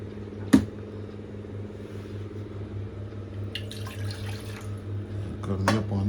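Tap water runs steadily into a tea saucepan in a home kitchen, a continuous close hiss and splash with a brief louder knock near the start and slight rise toward the end.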